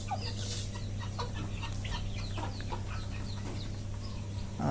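Six roosters being weighed and sold at a Bangladeshi poultry farm cluck repeatedly in short, scattered bursts, moderately close, over a steady low mechanical hum with no talking.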